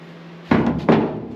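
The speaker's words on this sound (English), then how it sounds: "I've been going along with the hammer and been pounding that flat." Two loud metal thuds about a third of a second apart, each with a ringing tail, as a hammer pounds the bent door skin flat on a 1974 Chevy square body truck, close by and with no talk.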